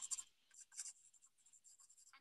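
A pen drawing on cocktail napkins, soft scratchy strokes in short irregular bursts, close and faint, with no voices.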